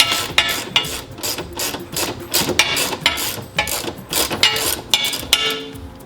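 A 13 nut being unscrewed on a Maytag Bravo washer, heard as a rapid series of sharp metallic ratchet clicks, some close and some fainter, repeating steadily with small pauses.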